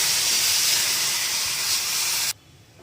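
A cup of milk poured into a hot pan after frying, giving a loud, steady hiss and sizzle that fills the moment and then cuts off abruptly near the end, with no one speaking.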